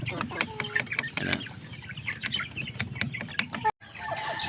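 Chinese Silkie bantam cross rooster clucking in a farmyard, a run of short close clucks with other fowl sounds around it, a brief gap near the end.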